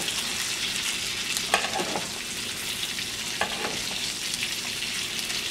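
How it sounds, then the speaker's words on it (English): Beef short rib sears in a pan with a steady, dense sizzle and crackle, broken by a few brief scraping or spatter bursts, close and continuous with no talking. "we want to just keep it so we can create a nice sear on one side"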